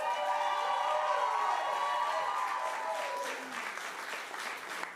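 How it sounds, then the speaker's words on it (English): Steady applause from a crowd at a sangeet, loud at first and thinning slightly toward the end, with scattered cheers over the clapping. "Let's get a round of applause for Mega."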